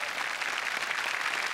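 A studio audience at a Marathi comedy show breaks into a short, dense burst of loud applause, steady clapping throughout with no voices on top.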